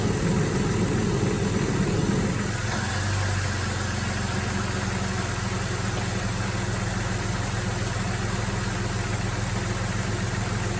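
A 2000 Jeep Grand Cherokee engine idles steadily while its electric cooling fan kicks on after about two seconds, adding a loud continuous whooshing roar over the low engine hum.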